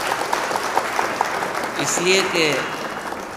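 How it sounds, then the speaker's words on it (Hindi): An audience at a mushaira poetry gathering claps briefly, a smattering of applause at moderate distance, with someone speaking over it. "4-5 तालियों के लिए मैं आपका शुक्रिया अदा करता हूँ"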